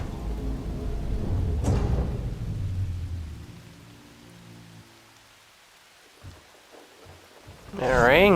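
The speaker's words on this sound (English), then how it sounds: "The rain came on awfully fast." Steady rainfall hisses in the open world of Horizon Forbidden West, heavy at first and then thinning to a faint patter with a few soft knocks, before a voice speaks at the end.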